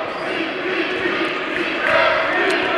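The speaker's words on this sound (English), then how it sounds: "Crowd chanting for the defense to bow up once more." A crowd chanting for the defense at a college men's basketball tournament game between HU and Grace College, a steady roar of many voices filling the gym under a commentator's play-by-play.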